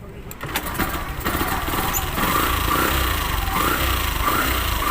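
A Yamaha YTX 125 motorcycle engine with a noisy clutch area is started and runs steadily nearby after a starter repair, a loud, even mechanical drone with faint voices in the background.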